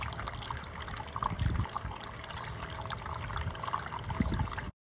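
Small solar-powered fountain in a garden water feature made from a terracotta saucer on a candle stand, trickling steadily and softly throughout, close by, with no talk.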